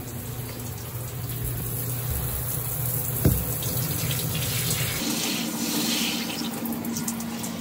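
Shower water running steadily, a continuous hiss and patter of spray close by, with a faint thump partway through and no talking.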